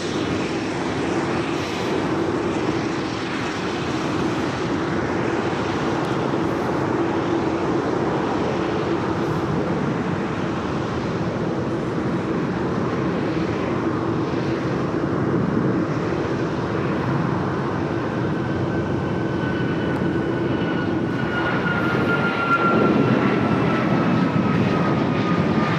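An airliner rolls down the runway after landing at Los Angeles airport, producing a loud sustained engine roar with a thin rising whine near the end, steady and uninterrupted by voices.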